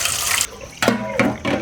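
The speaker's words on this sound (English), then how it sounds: "First, we put water on the sufuria to make the dirt soft." Tap water gushes into a dirty sufuria cooking pot in a kitchen sink, a loud close hiss in several short bursts with brief pauses between pours.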